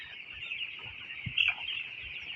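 Many fourteen-day-old broiler chicks peeping in a dense, continuous high chorus, with a few soft clucks and thumps beneath.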